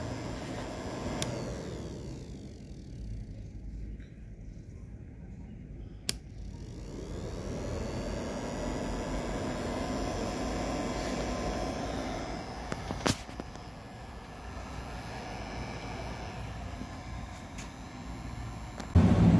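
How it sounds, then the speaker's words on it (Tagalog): A small fan spinning on a DIY solar generator, a steady whirring hum that holds throughout, close, with a few faint clicks and a brief louder bump at the end. "So pati yung fan ay umiikot."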